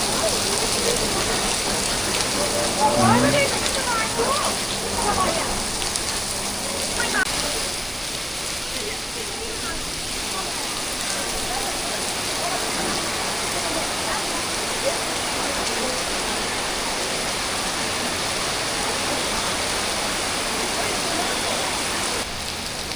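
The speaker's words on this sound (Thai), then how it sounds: "ฝนตกแรงมากเลยอะลมแรงมาก" Heavy rain pours steadily at Siam Square in Bangkok, a dense continuous hiss of drops on pavement with gusting wind, loud and unbroken throughout, with faint voices briefly audible early on.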